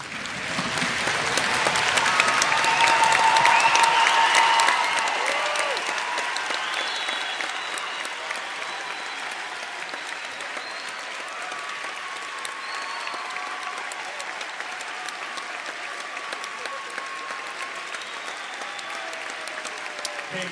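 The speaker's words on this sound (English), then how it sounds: "Will you please stand up and join me in a round of applause in honor of this" A standing audience at the Kennedy High School 2021 graduation ceremony applauds the graduating class, a dense crowd clapping that swells loudly at first, then eases into steady, softer applause.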